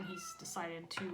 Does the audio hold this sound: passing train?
no